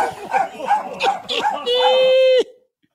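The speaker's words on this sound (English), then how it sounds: "barking dog" A dog barks several times in quick succession near an Australian porch, the sharp barks mixed with talk and ending in a long, loud, steady tone before silence.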